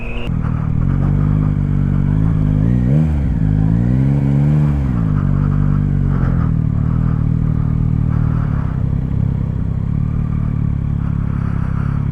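A 2023 Yamaha MT-09 SP motorcycle engine drones loud and close with a steady rumble, rising and falling in pitch around the middle as the throttle is worked, then holding a sustained note.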